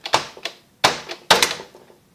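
Number keys are struck on a 1986 Robotron electronic typewriter with a Czech keyboard: three sharp, loud mechanical clacks spaced about half a second apart, each trailed by lighter ticks and rattles, heard up close with no talking.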